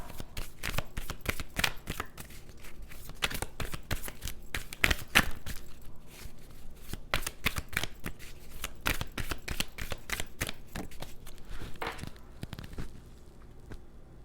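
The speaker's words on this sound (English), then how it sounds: "One more card on that, please." Tarot cards are shuffled by hand in quick, rapid riffling flicks, a dense run of crisp card snaps that continues steadily and close up with no talk.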